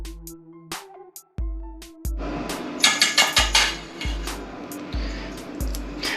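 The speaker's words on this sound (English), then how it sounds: "Now I'm gonna take this whisk and beat these eggs until they're nice," A whisk beats whole eggs in a bowl with a steady rhythm of clinks against the bowl, close and fairly loud, with no talking.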